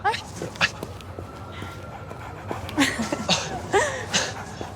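A small dog named Bachita yips and whimpers in short bursts amid laughter and lively talk nearby, the little cries rising and falling between voices.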